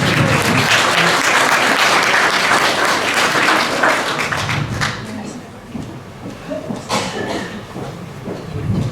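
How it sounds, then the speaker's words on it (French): Loud audience applause at a live comedy show in Paris, dense clapping that fades out midway, followed by scattered claps and a voice or two over the thinning crowd. "On applaudit Jérôme!"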